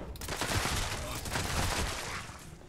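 An explosive assault rifle in the video game Fallout 76 fires a quick burst of shots, rapid blasts blending into a dense, crackling volley heard fairly quietly over a couple of seconds.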